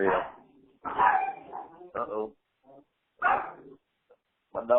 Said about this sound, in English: My dogs is barking.